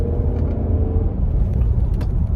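A 2014 Jeep Grand Cherokee with the Hemi V8, in sport mode, pulls hard down a road, its engine a steady, loud low rumble from inside the cabin with no talk over it.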